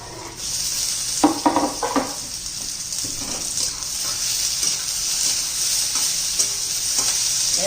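Onion and tomato for a dried fish chutney are frying and being stirred in a pan, a steady close sizzle with scraping spatula strokes and a few clinks of cookware, with no talking.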